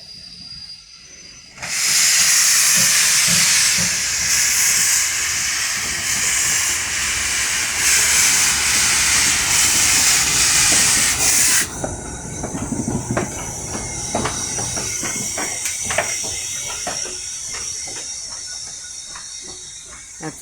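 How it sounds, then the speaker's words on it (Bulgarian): Steam locomotive on the Bankya–Sofia line releases a loud, sustained hiss of steam for about ten seconds, then drops to quieter rail and mechanical clatter with faint rumbling in the background. "Ето го и парния локомотив."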